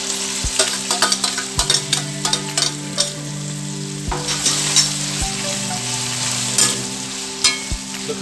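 Carrots, onions and green chilies stir-frying with chicken for lo mein, a steady close sizzle broken by repeated scraping clanks of a utensil against the pan, no voices.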